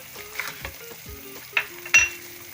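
Whole spices such as white cumin dropped into a pan and fried for a chicken karahi, with a soft sizzle and a few sharp clinks of a spoon against the pan.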